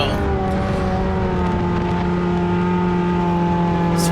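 Race cars on the Montpelier Motor Speedway track roar under hard acceleration, a loud, sustained engine drone with steady harmonic whine and no talk.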